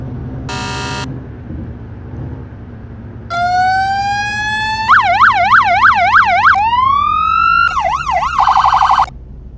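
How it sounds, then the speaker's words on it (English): Emergency vehicle siren from the Flashing Lights video game, loud and close, cycling through several patterns: a brief blast, a rising wail, a fast warbling yelp, then rapid high-low alternating tones, with no talking. "A little loud. I turn the siren down."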